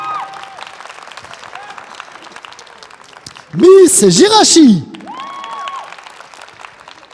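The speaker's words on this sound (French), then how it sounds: "applaudissements s'il vous plaît." A crowd applauds and cheers influencers on stage at the TGS Toulouse 2021 conference, a loud burst lasting about a second between stretches of a host talking over a venue sound system.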